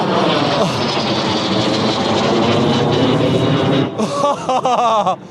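An L-39 Albatros jet aircraft roars past nearby with loud, steady broadband engine noise; excited French voices break in near the end.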